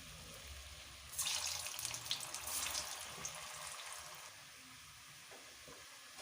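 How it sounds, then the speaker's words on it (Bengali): Sweet potato sweets drop into hot oil, setting off a sudden loud bubbling sizzle that crackles for a few seconds and then settles into a quieter, steady fry. "এবার এই রাঙালুর মিষ্টিগুলো একটা একটা করে আমি ছেড়ে দিলাম তেলে।"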